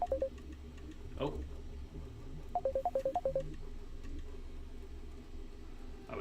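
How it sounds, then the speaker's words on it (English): Phone ringing during a Europa Universalis V session, heard as a short burst of rapid, evenly spaced electronic ring tones in the middle of the clip, faint and close, with bits of a voice between them. "I was getting a phone call at the same time."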